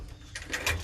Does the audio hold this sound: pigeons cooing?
yes